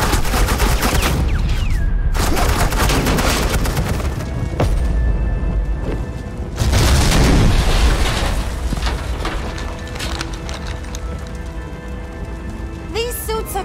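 Suppressing gunfire rattles through a scene in the Batman: The Enemy Within video game, a loud, sustained barrage of rapid crackling shots with a few brief pauses and faint voices mixed in.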